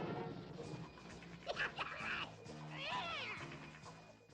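A cartoon cat in a dubbed Smurfs episode lets out a couple of drawn-out, wavering meows over soft background music, fairly close and clear.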